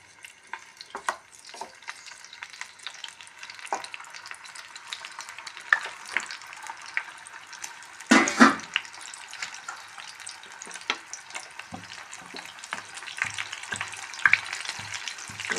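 Eggs fry in coconut oil in a pan with a steady close sizzle, stirring scrapes and clinks scattered throughout and a louder burst of crackling midway, no voices.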